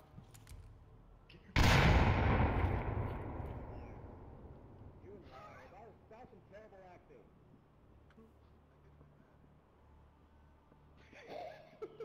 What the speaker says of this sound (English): All slows down in the north as nades get exchanged back and forth.